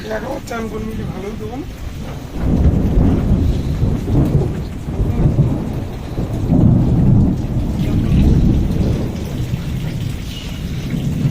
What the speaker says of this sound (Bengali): দেখতে পাচ্ছ কি বৃষ্টি আর কাদাটা দেখো